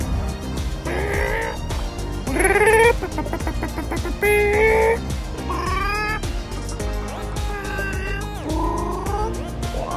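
A person's voice imitates a chicken with a run of rising squawks and clucks in short bursts, loud and close inside a vehicle, repeated several times over about ten seconds.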